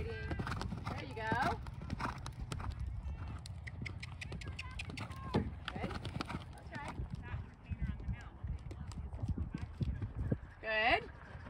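Rhythmic clip-clop of an off-the-track Thoroughbred cantering in an arena at a riding clinic, steady hoofbeats running under a coach's continuous spoken instruction, with a brief whinny-like sound near the end.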